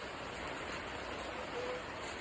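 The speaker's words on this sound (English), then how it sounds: "He's going on the trampoline in the pouring rain." Pouring rain outdoors near a backyard trampoline, a steady dense hiss of heavy downpour, constant and fairly loud with no voices.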